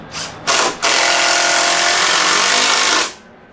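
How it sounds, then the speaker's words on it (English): A power tool drives screws into wooden cross bracing, a short buzzing burst followed by a longer steady whirring run of about two seconds, close and loud. "now we're screwing on the cross bracing here"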